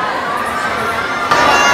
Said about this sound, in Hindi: भाई, आप सब इतने चीखे हो यार